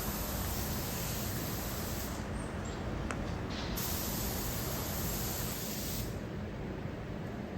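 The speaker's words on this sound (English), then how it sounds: "when you're spraying that clear, you spray it on wet" A steady, broad hiss of a spray gun laying down a wet clear coat on plastic fenders and metal bumpers, continuous and close, with no talking.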